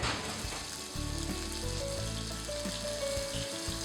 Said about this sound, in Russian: Обжариваем до румяной корочки на сковородке.